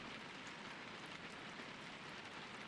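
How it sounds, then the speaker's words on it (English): Steady rain patters on a roof in the fantasy survival game RuneScape Dragonwilds, a soft, even hiss of drops that holds without a break and sounds fairly quiet and close. "you can hear the rain on the roof"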